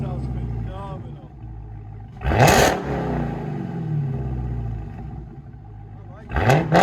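A car engine idles with a low rumble, then blips in two sharp revs several seconds apart, each rising quickly and falling back, with people talking in between.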